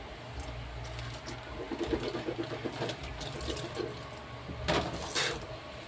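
Water runs from a tap in short, uneven bursts to rinse a toothbrush, fairly faint and close, with splashing and a hollow trickle and no talk.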